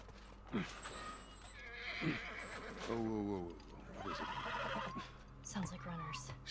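A horse whinnies and snorts amid clip-clopping hooves in The Last of Us, with game ambience and brief voices mixed in.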